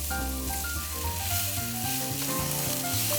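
Chopped onions for macaroni and cheese sizzle steadily in a hot pan, a bright continuous frying hiss that runs under a stepping tonal melody.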